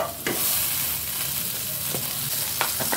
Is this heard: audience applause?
no